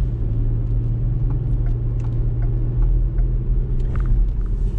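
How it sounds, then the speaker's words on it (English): Light morning commuter road traffic heard from inside a moving car: a steady low engine rumble and tyre drone, close and even, with no talking. "I would say this is definitely very light traffic compared to what it normally is at this time of the day."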